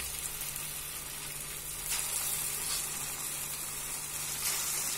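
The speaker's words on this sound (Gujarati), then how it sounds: "આપણે વન બાય વન પેટીસને તેલમાં તળીશું" Ragda patties fry in hot oil, one after another, giving a steady bubbling sizzle at moderate volume with a faint constant hum underneath.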